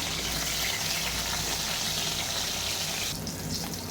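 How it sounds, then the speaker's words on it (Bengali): Pieces of rohu fish fry in hot oil in a pan, giving a loud, continuous close-up sizzle that eases slightly near the end. "মাছ ভেজে নিচ্ছি এগুলো হলো রুই মাছ"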